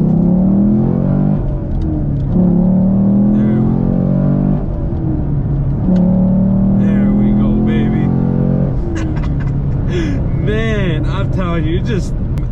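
A 2021 Chevrolet Camaro SS 1LE V8 accelerates hard on backroads, its engine note climbing in repeated pulls through the gears, loud and close, with a voice talking over the later part.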